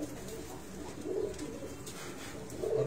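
Soft, low pigeon coos come in a couple of short bursts over faint background hiss, fairly quiet and unhurried, from a rooftop pigeon loft in Faisalabad.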